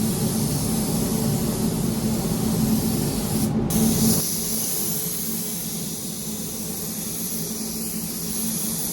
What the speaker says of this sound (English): I then got into the spray booth and put some nice high bulk primer onto that back door.